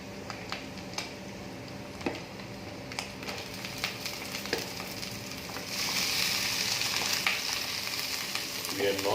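Cooked rice sizzles and crackles in a hot pan for soya fried rice, with sharp scraping and clicking stirs at intervals, then the frying grows louder and hissier partway through; no talking.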